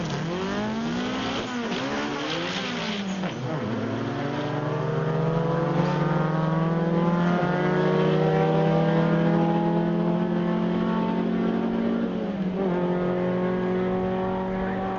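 An oval-window VW Beetle, a fifty-year-old car, blasts down a drag strip at Bug Jam, its engine note loud and close and climbing through repeated gear changes in one long pull.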